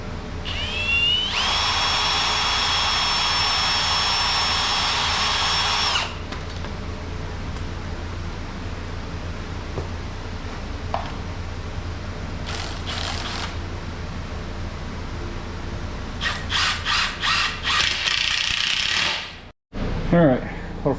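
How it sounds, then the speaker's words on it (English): A power drill pre-drilling holes and driving screws into wood whines in several bursts, one long run followed by shorter spurts, with ratcheting clicks and low background hum between them. "I just need to pre-drill some holes,"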